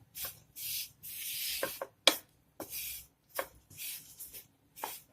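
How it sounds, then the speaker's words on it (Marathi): Gram flour (besan) dry-roasting in a pan over low heat, stirred in short scraping, rubbing strokes that come in irregular bursts with brief pauses, quiet and close, no voices. "चणा डाळचं पीठ टाकलंय तर मंद गॅसावर हलके हलके असं भाजून घ्यायचं"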